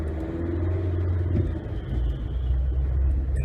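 Car engine rumbling and pulling under acceleration in city traffic in Strasbourg during a driving exam, a steady low drone that swells slightly throughout with no voices.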